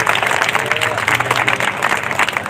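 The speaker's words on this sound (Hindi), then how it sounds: "जोरदार तालियों के साथ उनका स्वागत करें।" Audience in a hall claps loudly and continuously to welcome the chairman of the city primary education committee, a dense, close wash of applause with voices mixed in.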